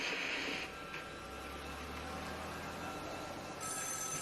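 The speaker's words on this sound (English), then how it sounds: "Your phone's ringing." A telephone rings in a quiet room, with bright electronic trilling bursts at the start and again near the end, and a low steady hum beneath.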